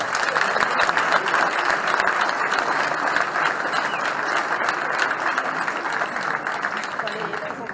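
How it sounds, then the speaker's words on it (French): An indoor crowd at a club's card game tournament breaks into sustained applause, dense clapping that holds steady throughout with a faint murmur of voices underneath. "pour tout le club, pour le tournoi, je pense qu'on peut vraiment applaudir Elki pour sa présence."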